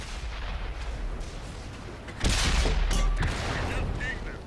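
A Russian 100mm tank cannon firing in World of Tanks, one heavy, close boom that lands suddenly, with rumbling battle noise before and after and a voice talking faintly in the background.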